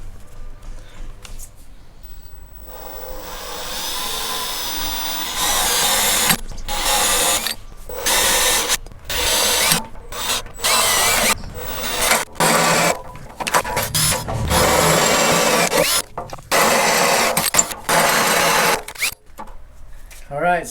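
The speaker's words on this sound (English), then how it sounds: "Next step is drilling these spot welds out here." A drill grinds through spot welds on a 1967-69 Camaro subframe in loud bursts, starting and stopping repeatedly with short pauses between cuts.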